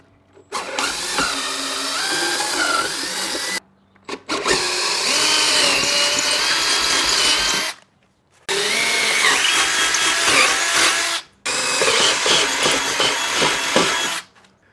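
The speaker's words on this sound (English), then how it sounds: "Now we're going to drill our holes through the fender to make holes for the new bolts." Power drill fitted with a 1/4 inch bit bores holes through a trailer fender in four loud, close bursts of whining, grinding motor noise, each several seconds long and separated by short silences.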